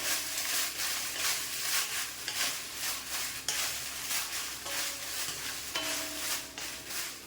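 Red chillies and rock salt dry-roasting in a pan, a soft scraping and rattling as they are stirred in repeated strokes, fairly quiet and close, with a faint tone surfacing near the end.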